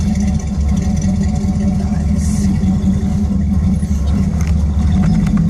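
A 1968 Dodge Charger R/T engine rumbles as the car creeps up a driveway, a steady low idle-like growl with faint clatter throughout and no voices.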